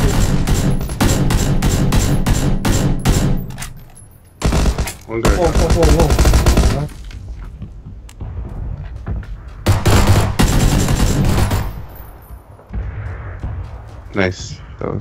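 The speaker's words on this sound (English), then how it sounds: "That's me shooting at this guy." Gunfire in the video game PUBG: bursts of rapid shots fill much of the clip, with several dense volleys and gaps between, loud and close, and voices talking over parts of it.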